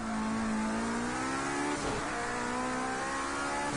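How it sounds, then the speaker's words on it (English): A race car engine revving hard in Project CARS 2 European sports car racing, pitch climbing steadily, briefly dipping at a gear change, then pulling up again, loud and close with no talk. "Briefly into second, just to get the revs up a little bit and get the acceleration."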